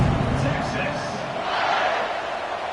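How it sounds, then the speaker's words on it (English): An American football stadium crowd roars and buzzes after a touchdown and extra point, a dense, continuous wash of cheering, steady and loud throughout. "this crowd is buzzing after that last score."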